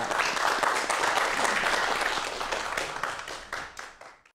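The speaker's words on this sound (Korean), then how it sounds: "오늘 함께해 주신 두 분에게 여러분 큰 박수 부탁드리겠습니다." Studio audience on a Korean TV science talk show applauding two guests, a steady wash of clapping that holds for several seconds and then tapers off to a few final claps.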